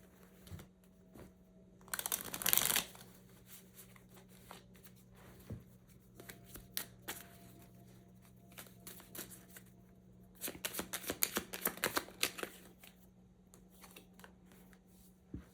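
Tarot cards being shuffled by hand during a reading: two brisk bursts of riffling and snapping cards, with softer handling and light taps in between, close and fairly quiet.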